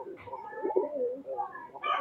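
A pair of Chinese pigeons in a loft coo softly in a few low, rolling phrases over about two seconds, fairly close and quiet.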